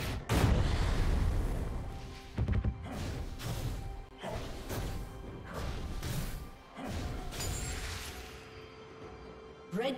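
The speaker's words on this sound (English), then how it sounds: "Red team's turret has been destroyed." A turret crumbles in League of Legends, a series of heavy crashes and thuds, some sharp and loud, spaced across several seconds amid ongoing game noise.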